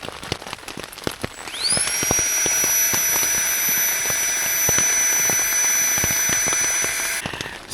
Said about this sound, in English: Obviously, as you can hear, it's pouring with rain.